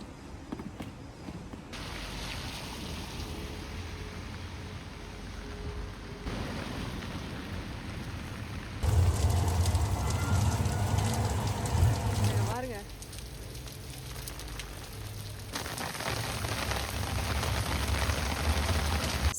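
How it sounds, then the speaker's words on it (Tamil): Heavy rain pours down in a German city, a dense hiss of drops on surfaces that shifts in loudness across changing spots, with low rumbling and a voice talking briefly. "செம்ம மழை பயங்கரமாக அடிக்குது"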